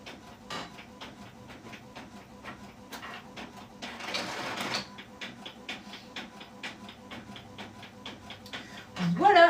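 A home printer running a document, with a steady train of short mechanical ticks and feed clatter, a brief louder whir in the middle and a bump at the end, heard close in a quiet room.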